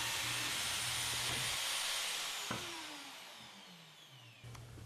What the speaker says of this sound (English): Drill matching dowel holes on these new centres using a piece of scrap below to minimise any